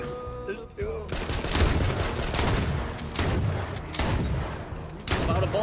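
Gunfire in the H1Z1 battle royale game, with dense bursts of rapid shots and loud cracks repeating through the clip while players talk over the action.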